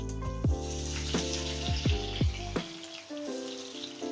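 Cumin seeds and ginger garlic paste sauté in hot oil along with whole spices and curry leaves, giving a soft, steady sizzle broken by a few clinking knocks and bubbling sounds. The whole sound stays fairly quiet.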